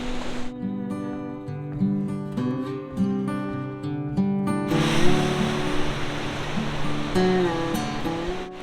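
Ocean surf on the Irish coast washes in with a broad rushing roar midway through, while a melodic music track plays before and over it.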